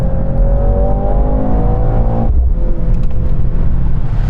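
A Mercedes-AMG C63 S E Performance accelerating on a track, its engine note rising steadily from inside the cabin, loud and continuous with a brief shift break midway, no voices.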